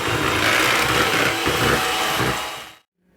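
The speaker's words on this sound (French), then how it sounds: "Et ensuite, on va fouetter." Brownie batter being whisked with an electric mixer, a loud steady motor whir running continuously for nearly three seconds before cutting off abruptly, leaving near silence.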